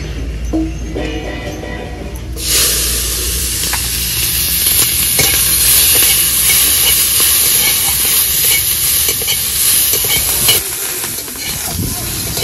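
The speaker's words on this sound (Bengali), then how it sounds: "ভাজা তেলের ওপরে দিয়ে দেব কাঁচা লঙ্কা।" Green chillies sizzle loudly in hot oil left from frying fish, a dense crackling hiss that flares up and holds steady, with faint clinks of stirring.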